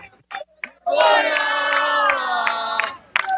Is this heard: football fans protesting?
yes